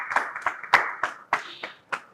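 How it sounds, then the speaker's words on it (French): A small audience claps in sparse, separate bursts as an artist joins the stage, each clap sharp and distinct rather than blending into a full round, fairly faint overall. "Je vous demande d'applaudir très très fort pendant qu'il nous rejoint sur le plateau."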